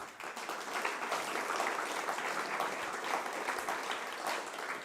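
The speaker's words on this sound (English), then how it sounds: "Applaudissez s'il vous plaît pour eux, pour nous" A conference audience applauds steadily for about five seconds, a dense, even wash of many hands clapping at moderate distance with no break and no voices over it.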